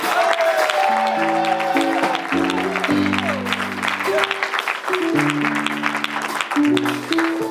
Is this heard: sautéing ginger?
no